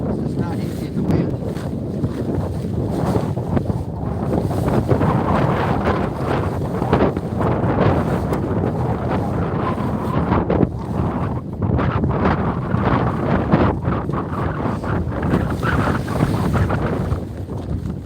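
Strong wind on open water roars and buffets the microphone from a small boat, a loud, continuous rushing with gusty swells and splashing underneath.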